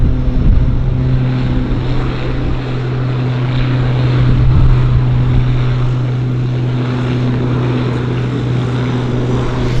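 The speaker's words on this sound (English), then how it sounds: "That's a heavily laden airplane." A heavily laden floatplane takes off from Vancouver's downtown harbour, its propeller engine droning loud and steady with a strong low hum throughout, wind-buffeted and close.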